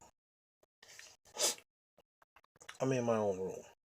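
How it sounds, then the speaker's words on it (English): A sharp intake of breath leads into a single quick sneeze, followed by a short vocal sound, all quiet and close. "But I just sneezed in my own room."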